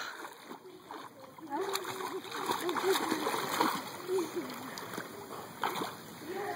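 Child swimming in a pool, with steady close splashing and sloshing water while adults and someone talk and call out throughout.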